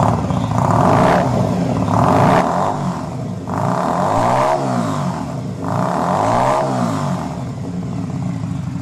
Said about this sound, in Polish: zobaczycie, jak mógłby brzmieć, jeśli zamontujecie na przykład wydechy z modelu M11 Cafe